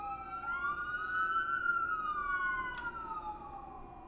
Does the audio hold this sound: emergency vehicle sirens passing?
yes